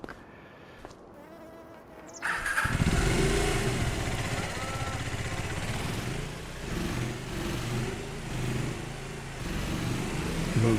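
A motorcycle engine in Farming Simulator 25 starts up with a sudden rise to a steady buzzing drone, holding a nasal, insect-like tone with slight revving swells, close and loud, with no talking.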